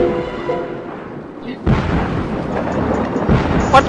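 A deep booming explosion erupts amid sound effects in the game Feeding Frenzy, followed by rumbling noise and a sharp chime near the end.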